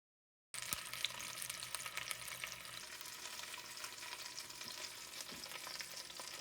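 Lamb shanks browning in a hot pan on the stove give a steady, even sizzle and crackle throughout, starting abruptly and continuing at a moderate level without talk.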